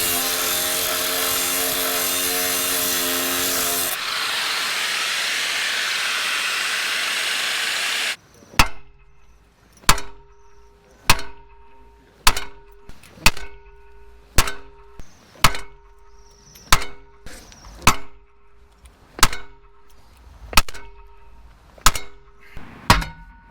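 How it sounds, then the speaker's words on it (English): Steel Dana 30 axle C's on a Jeep XJ, first a loud grinding or cutting whine for several seconds, then a rhythmic series of sharp, ringing hammer blows struck about once a second, each with a short metallic decay. "just clip a few welds and bash them with a hammer"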